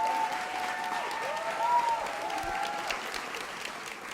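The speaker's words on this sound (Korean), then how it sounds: "나영석 PD를 박수로 환영해 주십시오." A lecture-show audience claps steadily in warm, sustained applause welcoming a speaker, heard from a little distance in a large room.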